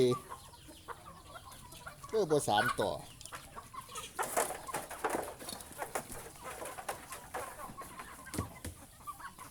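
Chickens cluck and call near and far in a farmyard, intermittent bursts of clucking with a voice speaking briefly in between.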